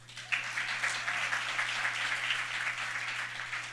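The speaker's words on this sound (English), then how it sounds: "You can clap even more for that." An audience at an awards ceremony claps steadily, a soft, dense patter of many hands that holds evenly throughout, heard at a distance under a low constant hum.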